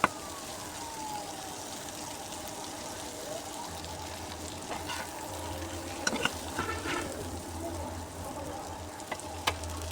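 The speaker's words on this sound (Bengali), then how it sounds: "এবার ভালো করে নেড়ে চেড়ে মিশিয়ে তারপরে পরিবেশন করে নেব" Egg-coated brinjal slices fry in a pan with roasted cumin powder while being stirred and mixed, a steady close sizzle broken by occasional spatula scrapes and light knocks; no talking.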